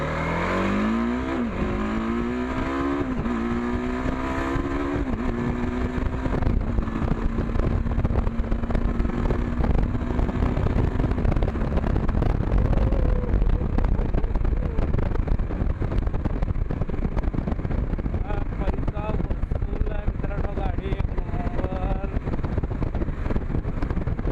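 A TVS RTX 300 motorcycle engine runs steadily and loudly throughout while riding, rising in pitch as it accelerates early on, with rushing road and wind noise.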